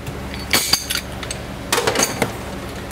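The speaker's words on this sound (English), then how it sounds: "Get our blender all set up." Blender being set up on a kitchen counter, a few hard clacks and clinks of parts being fitted together in two short bursts, close and fairly loud.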